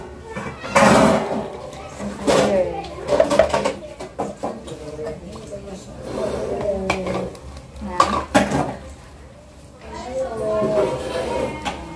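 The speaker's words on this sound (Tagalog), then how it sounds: "Naglilinis na lang kami sa mga kaldero, mga paha." Pots and pans being washed, metal cookware and utensils clanking and knocking in repeated bursts close by, with people talking throughout.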